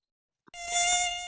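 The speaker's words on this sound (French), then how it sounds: "Un moustique, deux moustiques." Mosquitoes in the Mosquitos Control video game give off a high, thin whining buzz that starts abruptly after a brief silence and holds steady, close and fairly loud, with no talk.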